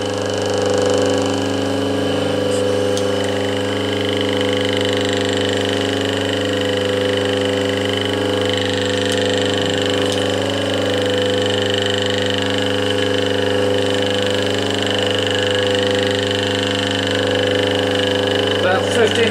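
A steady mechanical hum of a Brook Motors Gryphon electric motor running continuously at about 1500 RPM, loud and close, with a faint voice now and then over it.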